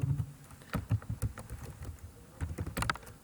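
Keys clatter on a computer keyboard as an email address is typed, quick irregular taps in short bursts with brief pauses, close and fairly quiet.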